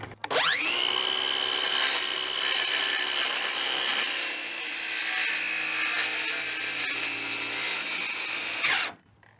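A saw cuts steadily through a wooden wall in a workshop under construction for about eight seconds, a loud continuous grinding rasp close by that stops abruptly, with no talk.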